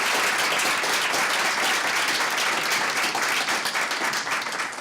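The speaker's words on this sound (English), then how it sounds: "let's first give our panelists a wonderful round of applause" A conference audience at an animal law event gives panelists a round of applause, a full, steady roar of many hands clapping throughout.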